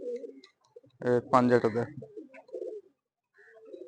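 Madrasi pigeons give soft, low coos nearby, short murmurs before and after someone speaks briefly over them.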